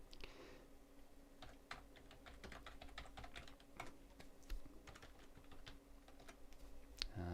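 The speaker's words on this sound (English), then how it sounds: "I'll just type one more record just to show you how simple it is to do once you set the table up." Quick, light keystrokes tapping on a computer keyboard during data entry in Microsoft Access 2003, irregular and close against a faint steady hum.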